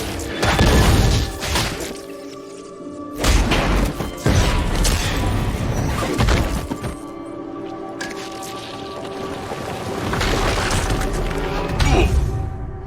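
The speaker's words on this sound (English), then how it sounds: "But then Powder comes in, and the explosion happens" An explosion in a scene from the animated series Arcane gives repeated heavy crashes and booms with debris clatter, loud and close, rising and falling over several seconds.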